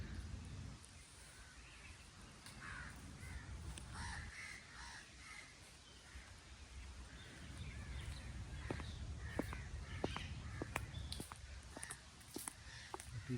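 A crow caws repeatedly and loudly behind people out walking, its harsh calls coming in irregular bursts over faint footsteps and soft outdoor background.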